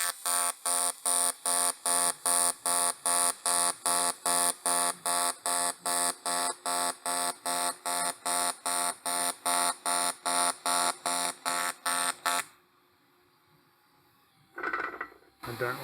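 Kemppi MasterTIG 235 AC TIG welding arc on a mixed TIG/AC setting, buzzing in a steady, rapid pulsing rhythm for about twelve seconds, then cutting off abruptly, with a brief faint noise near the end.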